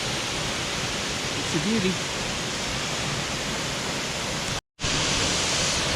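El Silencio waterfall in Murillo, Colombia gives a constant broadband roar of falling water, broken by one brief dropout, with a voice speaking briefly over it.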